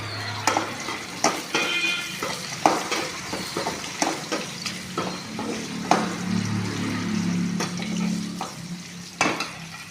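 Shallots sizzle in a hot pan as a spoon stirs, with frequent scraping clinks against the metal over a continuous frying hiss.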